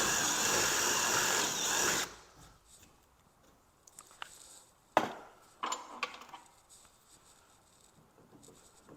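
A power drill bores briefly into boat hull wood in short bursts after a loud whirring burst at the start, with scattered clicks and handling knocks between the spins, close by and without talk.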